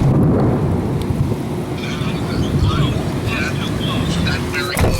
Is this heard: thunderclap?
yes